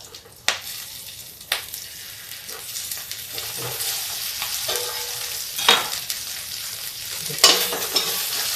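Potatoes with cumin seeds and green chilli frying in a kadai, a steady hiss of sizzling oil broken by several sharp clatters of a spoon stirring, close up and with no talking.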